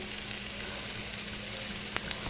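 Fennel seeds and asafoetida sizzle in hot oil for an Bengali shukto tempering, a close, continuous crackling fry with one sharp tick near the end.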